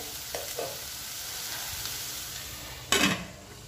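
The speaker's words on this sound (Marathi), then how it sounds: "तर आपल्याला हा मसाला भाजून घ्यायचा आहे।" Dhaba-style cashew curry spice masala roasting in a pan gives a steady, soft sizzle with a few faint scrapes, then a brief louder rustle of stirring near the end.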